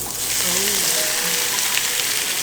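Minced meat sizzles in a pan with garlic and onions, a dense, loud continuous frying hiss close up, with a brief faint voice-like murmur early on.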